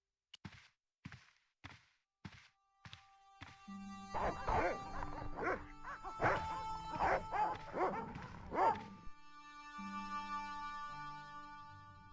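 Dogs barking in the Broken Sword: Shadow of the Templars Director's Cut game: a run of sharp separate barks builds into a dense, overlapping flurry of barking and yelping over a low hum, then fades to a tonal drone.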